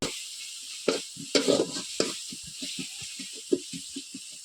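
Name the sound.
masala frying and being stirred in a pan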